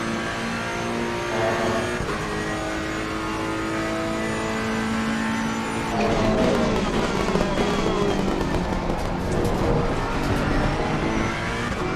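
A race car engine in a racing video game screams through a flying lap, with continuous high revving, gear shifts and tire squeal, steady and loud without talking.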